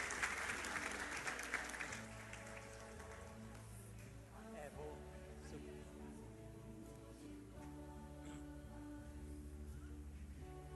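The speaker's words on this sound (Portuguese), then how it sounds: "uma salva de palmas para o senhor Olavo" An audience applauds a speaker at a 2014 conference in Rondônia, a steady wash of clapping that starts fuller and then settles into a softer, sustained patter while distant voices murmur beneath it.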